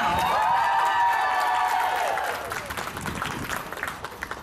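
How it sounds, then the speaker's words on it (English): A crowd at a charity awareness event applauds and cheers to cast a vote, with a shouted cheer first, then a looser patter of clapping trailing off toward the end. "So if you want to vote for Sandeep, please give me your applause now."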